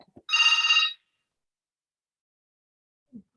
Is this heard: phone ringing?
yes